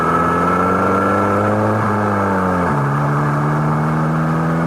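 A steady mechanical engine whine that holds, slides lower in pitch, then settles into a lower drone, heard alone without voices.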